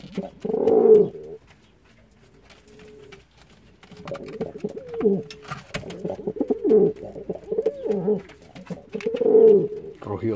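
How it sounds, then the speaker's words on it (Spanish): A young female pigeon coos repeatedly at close range, several soft throaty rolling calls in bursts separated by short pauses. "Mira, Edu, qué bonita se está poniendo la paloma."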